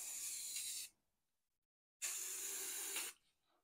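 Spray paint coats going onto taped scale-model panels of a Tucano aircraft: two long, even aerosol hisses of about a second each, close and loud, separated by a short silence.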